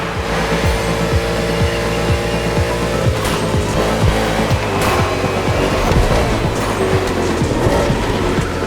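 A NASCAR race car engine from The Crew Motorfest drones loud and continuous at full throttle, with rapid rhythmic pulsing, tire squeal, and other cars close by.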